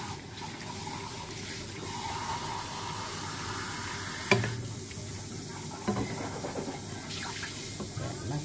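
Small dried danggit fish frying in a pan give a steady, continuous sizzle, with a couple of brief clinks of utensil against the pan partway through.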